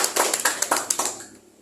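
An audience at a teachers' meeting with a parliamentary commission member claps in a brief burst of applause, the claps quick and fairly loud before fading out within about a second and a half.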